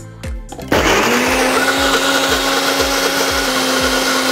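A blender grinding spices starts up after a few clicks and grinds loudly and steadily, its motor whining with a rhythmic churning pulse.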